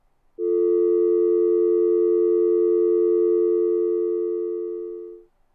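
A dangling telephone handset sounds a loud, steady electronic off-hook tone that holds unbroken for about five seconds before fading slightly and cutting off.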